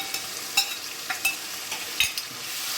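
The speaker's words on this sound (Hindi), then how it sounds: "अदरक लहसुन का पेस्ट कोई 3 मिनट 4 मिनट भुना गया" Ginger-garlic paste fries over fried onions in a pan for malai kofta, with a soft steady sizzle broken by scraping spoon strokes at an uneven rhythm, up close and with no talking.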